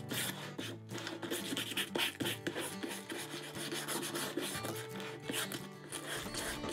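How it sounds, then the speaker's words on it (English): Steady, rough rasping of sandpaper worked back and forth over a wooden box, close and continuous with uneven scratchy strokes. "So you just want to keep sanding that and just really roughing it up,"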